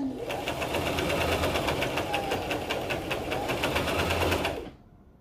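Sewing machine stitching the shoulder seam of a cow print jacket, a steady rapid mechanical whir with fine rhythmic needle ticks, loud and close, running continuously for about four and a half seconds before cutting off.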